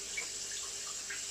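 Tap water runs steadily into a sink for a quick rinse, a continuous close hiss and splash with a few brief drip-like accents, no talking.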